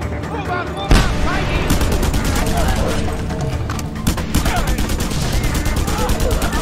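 Loud, dense automatic gunfire and explosions from grenades in Just Cause 2, a rapid rattling barrage with heavy booms, continuous and close, with a voice over it.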